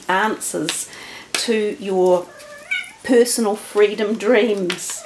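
A house cat meows and yowls loudly while attacking another animal, harsh drawn-out cries close by, broken up by a person talking between them.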